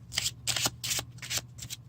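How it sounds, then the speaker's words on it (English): Someone shuffles a small, thick mini tarot deck in quick riffling bursts, about six crisp fluttering pulses close to the listener, with a faint low hum underneath. "So shuffling them is going to take a little bit of getting used to too"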